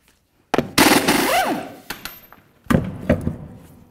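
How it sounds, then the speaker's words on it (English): Lug nuts coming off a 2003-2007 Chevy Silverado rear wheel, likely with an impact wrench: two loud bursts of rapid rattling hammering, the first long and wavering, the second shorter, with brief knocks between. "we're going to go ahead and remove all six of these lug nuts"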